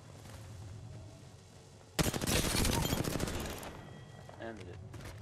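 A dense burst of automatic gunfire in the battle royale shooter Apex Legends erupts loud and close, rattling for about two seconds before trailing off into lighter scattered sounds.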